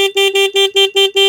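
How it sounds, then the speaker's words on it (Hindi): A motorcycle horn on a Pulsar N160 or Apache 160 4V sounds in seven short, loud, evenly spaced beeps, a bright buzzy tone pulsing rapidly and close by. "इस जगह पे आप हॉर्न सुन सकते हो।"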